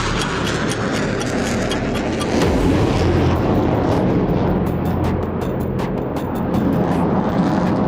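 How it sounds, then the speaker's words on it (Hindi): Loud, steady roar of Russian Sukhoi military jets taking off from an airbase runway near a front line, a dense rumbling wall of engine noise with no voices. "रूस का एयरबेस और सुखोई विमानों की एक टोली ने गरजते"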